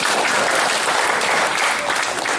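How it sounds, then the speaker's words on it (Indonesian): A church congregation gives a pastor a burst of loud, dense applause, many hands clapping together at a steady level throughout with no break. "jadi tepuk tangan buat pendeta"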